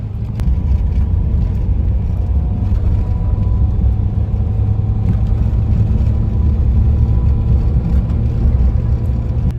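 A Mitsubishi Pajero Mini on back roads hums along at low RPM, its engine and road rumble steady and loud from inside the cab, with no talk over it.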